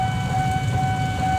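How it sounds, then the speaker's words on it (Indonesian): Train arriving at a station from the direction of Pasar Senen in Indonesia, a steady loud rumble with a sustained tonal hum or horn-like tone held throughout, close by. "Akan masuk kereta dari arah Pasar Senen."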